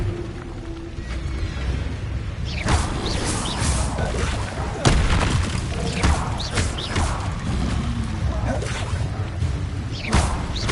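Fire spell casting in Hogwarts Legacy gameplay, with repeated whooshing bursts and crackling impacts amid mechanical clatter, several sharp hits spaced irregularly over a steady background.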